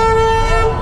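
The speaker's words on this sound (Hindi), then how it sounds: "कितना हॉर्न बजा रहा भाई" A car horn blares in one loud, sustained tonal honk lasting under a second, close by on a road with traffic rumble beneath.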